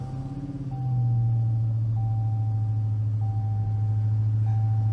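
Wrecked Mopar car from a salvage auction cranking and catching, its engine settling into a steady low idle after about a second, joined by a regularly repeating warning chime.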